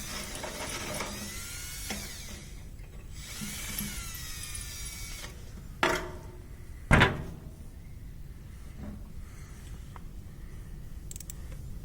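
A drill bit works at a previously drilled hole in a part of a Gehl 125 grinder mixer, enlarging it with intermittent grinding and whirring, plus a couple of sharp metallic knocks; fairly quiet overall.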